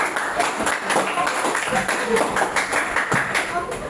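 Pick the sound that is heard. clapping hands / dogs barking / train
clapping hands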